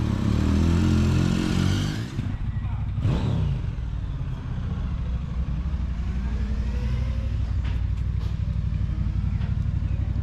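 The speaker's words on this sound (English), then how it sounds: "Love the sound and the smell of a two-stroke." A two-stroke motorcycle engine idles and revs nearby, a loud buzzing drone that dips briefly before settling into a steady, rattly running note.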